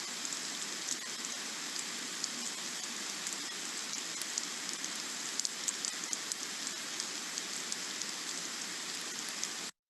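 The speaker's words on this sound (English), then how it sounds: "this is the rice weevil inside wheat kernels making sound" Rice weevils feeding inside wheat kernels make a steady dense crackling, a fine hiss of countless tiny clicks and pops that runs evenly without pause.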